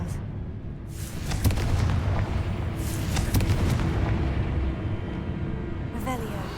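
Confringo fire spells blasting in Hogwarts Legacy: several booming, fiery bursts erupt at intervals amid a steady din of combat, with voices talking over the action.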